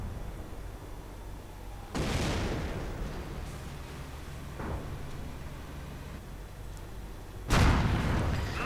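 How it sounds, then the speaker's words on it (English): Explosions and gunfire from a WWII real-time strategy battle: loud booming blasts near 2 s and 7.5 s with a smaller bang between, over a steady rumbling din of combat. "with a heroic effort, they blast the sniper to bits with the bazookas"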